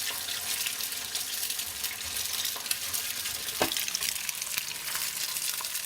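Beaten egg stirred and frying in a hot pan, a steady hissing sizzle with occasional faint taps from the utensil, close and moderately loud, no voices.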